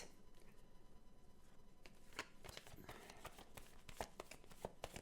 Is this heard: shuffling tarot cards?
yes